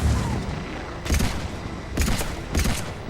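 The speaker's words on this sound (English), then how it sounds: "She's shooting missiles at the Banshee, but they sure don't do much damage" A gunship fires missiles at a Banshee in Mass Effect 3: three sharp, loud bursts about a second apart crack over a steady background din of battle.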